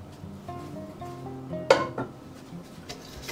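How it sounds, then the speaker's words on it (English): Brownie batter mixed with a utensil in a bowl, a few scraping and tapping strokes followed by a single sharp clink against the side, close and alone. "Then you're just gonna mix this up until it gets thicker and lighter in color."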